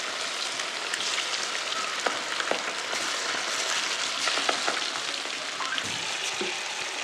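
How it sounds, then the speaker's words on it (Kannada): Kebabs frying in a pan of boiling oil at an outdoor village cook-up give a loud, continuous dense sizzle and crackle, with scattered pops and small clinks throughout and no talking. "ನೋಡಿ ಹೆಂಗೆ ಕುದೀತಾ ಇದೆ ಎಣ್ಣೆ."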